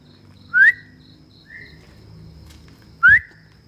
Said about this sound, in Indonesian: Ada yang ikutin siulan gue